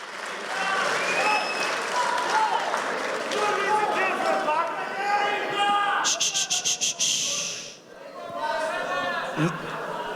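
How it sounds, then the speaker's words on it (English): Crowd at Newcastle City Hall applauding Floyd Mayweather's team, loud clapping and cheering with voices over it, broken by a short rapid fluttering burst before it drops away and picks up again. "That's a big round of applause for the Floyd Money Mayweather team."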